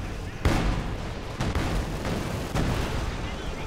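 Three heavy booming blasts in Company of Heroes 2 as a bridge is hit, each a sudden loud impact trailing into rumbling noise, spaced about a second apart over continuous battle din.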